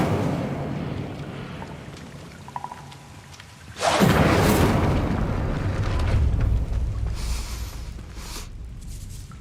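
Incendio fire spell cast in Hogwarts Legacy, a sudden loud whooshing blast that bursts out and then roars on as a sustained rumbling fire rush, fading slowly.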